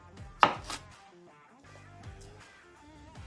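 A kitchen knife chops vegetables such as onions, carrots or garlic with a guillotine cut, one sharp loud strike near the start followed by lighter tapping and board contact, close and alone.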